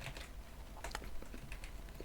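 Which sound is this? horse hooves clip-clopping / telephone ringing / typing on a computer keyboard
typing on a computer keyboard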